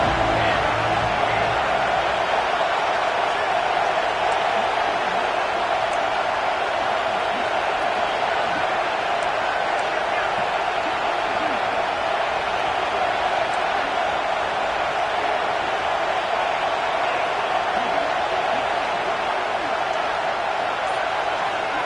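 Stadium crowd noise in the college football game NCAA 25 forms a continuous, even wash of cheering behind a defense on third down. It runs beneath steady commentary the whole time.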